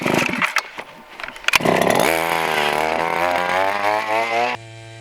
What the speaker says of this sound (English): we're gonna get the Eskimo rocket fired up here, and we're gonna start drilling holes